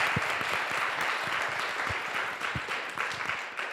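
Audience at an MIT student healthcare-scarcity event gives a round of applause for students and a panel, a steady wash of many hands clapping at a distance, fairly soft, with a few sharper nearby claps.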